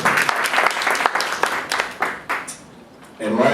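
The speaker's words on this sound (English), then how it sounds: "you should deserve a round of applause" An audience at a community action board meeting breaks into a round of applause, with dense clapping that builds, trails off into a brief lull, then picks up again near the end.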